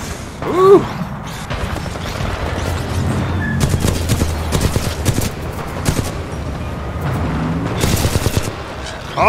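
A battle in Titanfall 2 carries steady rapid gunfire throughout, with a grenade going off amid the shooting as sharp crashing bursts, and a voice briefly heard.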